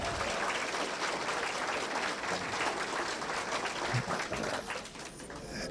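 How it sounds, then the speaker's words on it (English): Sustained applause from an audience at a 2018 high school signing day ceremony for student athletes, dense steady clapping filling the room for several seconds before tapering slightly near the end. "let's give all of our student athletes a round of applause"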